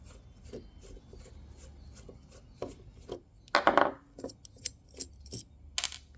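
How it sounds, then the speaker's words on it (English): Removing the last screw from a valve on a 1999–2005 Mazda Miata standard supercharger kit: close, quiet metallic clicks and light scraping, with a brief louder rasping burst midway and sharp ticks near the end. No one talks. "Okay, so we're taking out the last screw."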